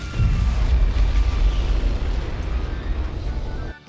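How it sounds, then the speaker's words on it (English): A rocket starting up in the video game Fallout 4 gives a loud, sustained rumbling roar with a burst-like onset that holds steady for several seconds before cutting off. "Now we can just start up the rocket"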